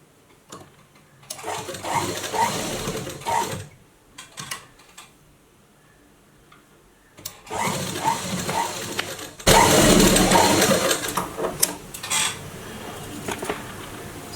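Sewing machine stitching a blouse hook strip, several separate whirring runs of a couple of seconds each with quiet gaps, the last one louder and closer, with light clinks between.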